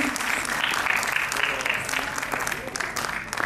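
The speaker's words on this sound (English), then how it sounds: "Audience, please give him a round of applause, please." An audience at an award ceremony claps steadily and densely for several seconds, a close, sustained round of applause with faint voices mixed in underneath.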